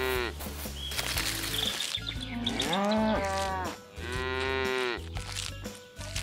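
Cartoon cows grazing in a forest give long, drawn-out moos, several overlapping in turn, close and loud over a bouncy animated music bed.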